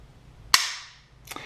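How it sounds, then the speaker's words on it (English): A rifle fitted with a high-performance trigger releases with one sharp, loud snap, then a fainter metallic click follows about three quarters of a second later, both close and in an otherwise quiet room. "and we'll pull the trigger."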